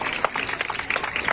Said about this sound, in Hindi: ताली जरूर बजाइएगा।